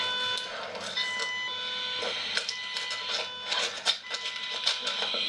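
A buzzer sound effect used in sound design for a quiz-style scene hums as a steady, harmonic-rich electronic tone throughout, with voices faintly beneath it.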